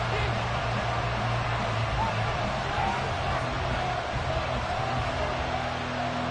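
Steady stadium crowd roar in the Madden 24 football game during a Lions vs. Packers matchup, a dense continuous wash of cheering and noise that stays level throughout.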